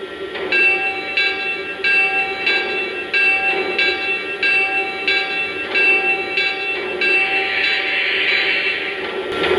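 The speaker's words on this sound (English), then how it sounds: "Now let's check out the bell." Bell of a Lionel 2-8-0 Consolidation model steam locomotive in Southern #630 livery, clanging in a steady, evenly spaced rhythm of bright metallic strikes, close and loud over a faint background hum.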